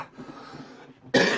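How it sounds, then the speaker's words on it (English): A single sharp, loud cough from a sore throat bursts out near the end after a quiet stretch of faint background murmur. "A lot of coughing, probably, throughout this episode."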